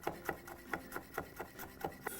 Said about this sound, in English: Grab a few cloves of garlic, and we're going to finely chop this.